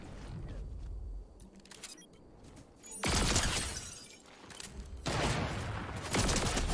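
Video game gunfire from a scoped weapon during a firefight on a ridge: bursts of loud, crackling shots arrive in two heavy volleys, with quieter sharp pops between them.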